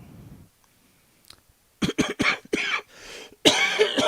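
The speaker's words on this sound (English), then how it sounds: "the stock's going to go up soon because I'm coughing again" A man coughs several times in a close, harsh burst, followed by throat-clearing sounds.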